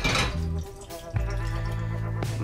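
Water saved from hot peppers pours into a cooking pot for hard candy, a short gurgling trickle with liquid splashes and resonant ringing from the pot, close and quiet.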